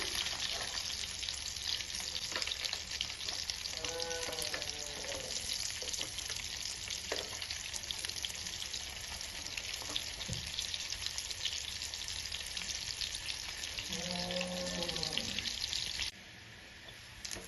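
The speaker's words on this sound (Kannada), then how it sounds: "2 ಸೈಡು ಚೆನ್ನಾಗಿ ಫ್ರೈ ಮಾಡ್ಕೋಬೇಕು." Mutton keema vada sizzles in hot oil as the patties are turned to fry both sides crisp. A loud, continuous crackle runs throughout, with occasional brief faint voice sounds over it.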